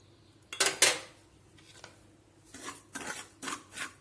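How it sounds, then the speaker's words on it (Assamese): A utensil scrapes and clinks against a pan in short bursts as semolina is slowly stirred and fried for bottle gourd modak, with quiet gaps between the strokes. "এনেকৈ লাহে লাহেকৈ চুজিখিনিও ভাজি থাকিব লাগিব।"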